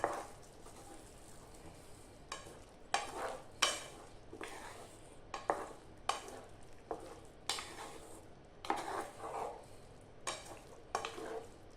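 A koorka (Chinese potato) stir-fry with coriander powder is stirred in a pan, with a quick run of repeated scraping strokes over a soft background sizzle.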